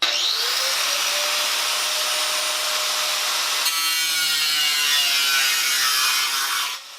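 An angle grinder cuts into the hollow sheet-metal trunk panel of a Mazda Miata, a loud, steady high-pitched whine with a brief shift in pitch midway before it winds down at the end.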